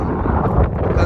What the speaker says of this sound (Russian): Сегодня у нас очень ветреный день, меняется погода и ветер достигает